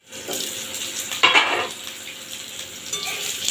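Potato and eggplant frying in oil with black cumin in a pan, giving a steady sizzle that rises briefly as the pieces are stirred with a utensil. A light clink of metal is heard partway through, then a constant crackle continues.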